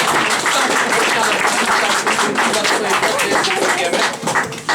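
A crowd at a judo club's end-of-season awards ceremony in Ełk applauds, a loud, dense, continuous clapping close by that holds steady and only thins slightly near the end.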